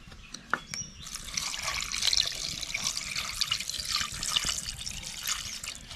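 Water poured into a pot of raw chicken seasoned with turmeric and salt, a steady splashing trickle that runs alone for several seconds at close range.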